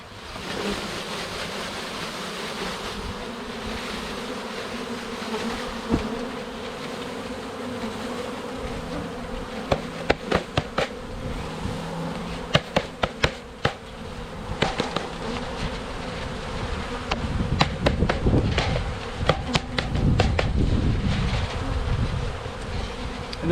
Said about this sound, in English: The fun part is when we put the bees in.